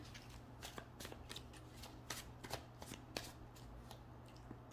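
Tarot cards shuffled and drawn close by in a quiet room, a run of crisp riffling slaps and flicks in an irregular rhythm over a faint low hum, with no talking.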